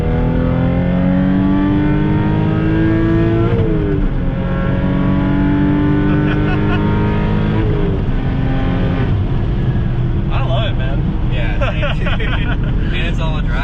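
A 400 hp Audi B5 S4 with a six-speed manual and all-wheel drive accelerates hard in gear, its engine loud and rising in pitch through long pulls, heard from inside the car while people talk.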